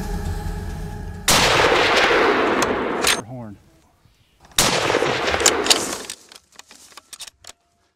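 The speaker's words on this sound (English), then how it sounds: "Pat sets up for a great shot" A hunting rifle fires on a hunt for a big game animal, a loud close blast at about 1.3 s with a long rumbling decay, followed by a second loud report near 4.5 s and fainter rustling afterward.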